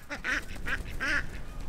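Farm ducks quacking in alarm at an Old English Sheepdog puppy, three loud, close nasal quacks in quick succession over a low background hiss.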